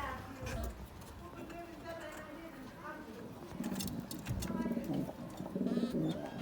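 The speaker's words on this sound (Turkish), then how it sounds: "Ne güzel bir kuş." Soft pigeon cooing rises in the second half, low repeated calls close by, with a voice talking quietly over the top.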